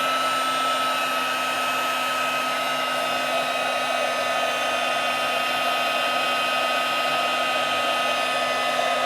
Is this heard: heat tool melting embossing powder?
yes